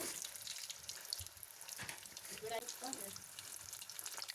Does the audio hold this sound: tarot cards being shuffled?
no